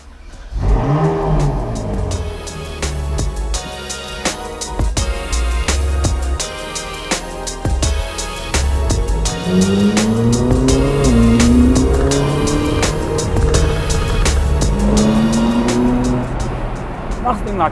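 Ferrari 458 Spider with its V8 engine revving hard under acceleration, loud and close with rising and falling gear sweeps, a voice talking intermittently over the engine.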